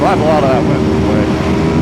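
Aprilia RSV4 superbike engine at about quarter throttle in fourth gear, holding a steady, even drone under loud wind rush while someone talks over it.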